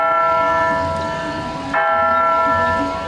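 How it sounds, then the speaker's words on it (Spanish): Church bells in San Pedro Carchá, Alta Verapaz, ring loudly with long, overlapping metallic tones that swell and fade, one fresh strike landing partway through. "El sonido de las campanas pareciera darnos la bienvenida."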